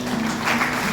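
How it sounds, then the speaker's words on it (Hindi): Audience applause at a Diwali gathering of halwai sweet-makers in Jaora, Ratlam, a brief steady wash of many hands clapping at moderate distance. "जोरदार तालियां हो जाए।"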